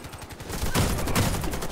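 A quick burst of Saiga gunfire rings out in a noisy Warface game scene, two or three sharp shots close together amid a steady background din.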